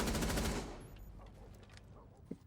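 Gunfire from a Rainbow Six Siege match: a rapid automatic burst rattles loudly for under a second, then cuts off and leaves a faint, quiet tail with a small click near the end.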